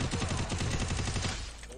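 Rapid bursts of gunfire ring out in a shooting video game, a quick rhythmic string of close, sharp shots that taper off near the end with no talk over them.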